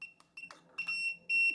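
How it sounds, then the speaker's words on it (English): A biometric gun safe with keypad and fingerprint access gives a quick run of sharp electronic beeps, close and clear, several short tones and then a longer sustained one. "you can see it beeping. It won't let me in there."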